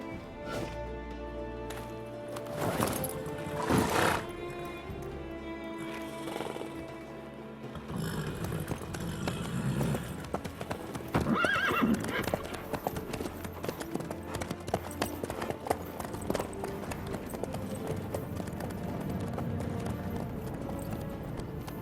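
Horse hooves clip-clop steadily with an occasional whinny in The Witcher 3, set against a continuous game soundtrack and ambient background.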